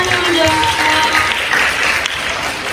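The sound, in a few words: audience applause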